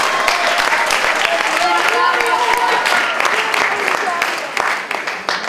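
An audience at a student theatre festival claps in a loud, dense burst of applause that fills the hall, then gradually thins and fades toward the end.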